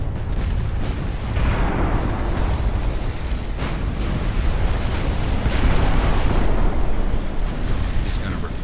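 Naval cannons fire full broadsides in the Ultimate Admiral: Dreadnoughts naval battle game, a dense, continuous roar of deep booms and rumbling blasts, loud and unbroken, with a voice talking over it.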